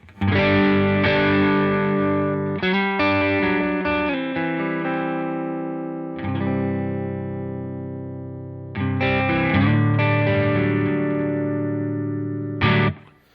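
Electric guitar on the neck pickup through a Helix overdrive with drive low, tone high and bass cut on, chords and single notes ringing out with varied picking strength, loud and alone.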